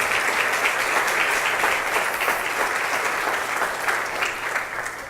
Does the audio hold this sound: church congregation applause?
yes